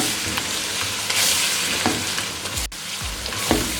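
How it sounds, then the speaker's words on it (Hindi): Boneless chicken karahi with cumin powder fries loudly in a kadai, a dense steady sizzle broken by scraping stirs of the spatula against the pan, close up and without talk. "अब इसको अच्छे से 1 मिनट के लिए हम भून लेंगे।"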